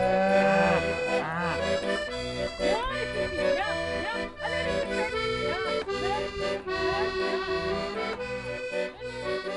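A cow close to calving, her udder well prepared, lets out repeated long moos with shifting pitch, loud and near, several calls running back to back.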